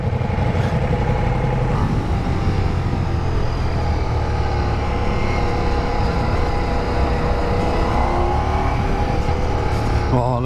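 A Ducati Diavel V4 motorcycle engine pulls hard and accelerates, a loud, close, steady V4 drone with rising revs that fills the whole stretch.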